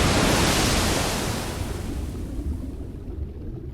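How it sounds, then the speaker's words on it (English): A broad rushing wash of water and wind as a player character falls into water in the video game Elden Ring, loud at first and slowly easing off, with no voices. "Oh, we fell in the water."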